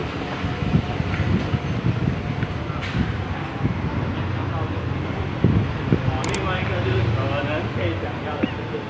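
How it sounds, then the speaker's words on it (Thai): A steady, low rumble of a train fills a busy station, with a constant background roar and faint indistinct voices. "สถานีรถไฟเนาะ"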